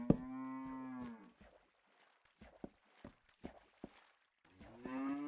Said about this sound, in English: Oh, these cows are so loud,